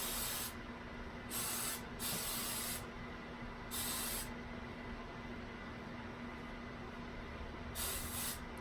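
Several short hissing bursts of hairspray from an aerosol can, four or five spurts spaced apart, close up over a low steady background hum.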